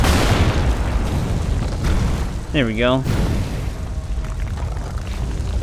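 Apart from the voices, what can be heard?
bombs exploding in video game Lara Croft and the Guardian of Light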